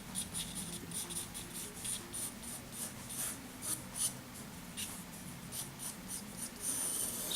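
A pencil makes light strokes on paper, a quiet, close scratching that comes in short repeated passes, soft and steady throughout.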